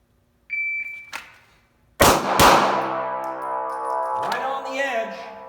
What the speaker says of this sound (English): you have got 2 seconds to draw from the holster and fire 2 rounds with 2 hands